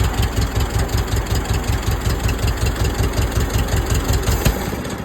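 An old tractor engine runs close and loud with a steady, chugging low pulse, holding near idle rather than clearly revving, and no one speaks over it.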